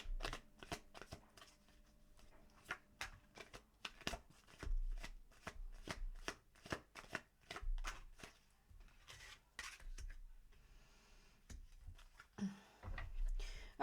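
Tarot cards are shuffled by hand in fast, quiet rhythmic riffles and soft rubbing strokes, close and steady throughout, with no talk.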